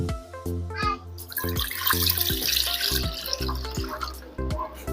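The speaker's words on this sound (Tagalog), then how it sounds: "Sa isang kaldero, maglalagay po tayo na isang litrong tubig." About a litre of water pours steadily into a metal cooking pot, splashing and gurgling close by, alongside a low humming tone that repeats in regular pulses.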